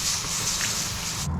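A steady hissing water spray rinses trout fillets, broadband and even throughout, close and fairly loud with no talk, cutting off abruptly near the end.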